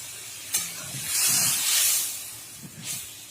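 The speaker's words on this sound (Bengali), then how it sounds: "এর মধ্যে ডালটা ঢেলে দেবো" Pea dal tipped into a hot pan for a bitter-gourd dal, giving a soft thump and then a strong, steady hissing sizzle that swells for about a second before settling into a quieter fry with light stirring taps.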